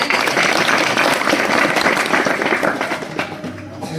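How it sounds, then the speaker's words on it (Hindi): Audience at a Hindu Bhagavat katha religious discourse claps in dense, sustained applause that fills the space, then thins and fades near the end. "आपकी ताली ढीली क्यों बज रही है?"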